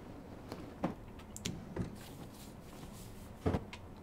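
Wooden drawers and cupboards being opened and shut while searching in The Long Dark, a few soft separate knocks and slides at quiet, uneven intervals.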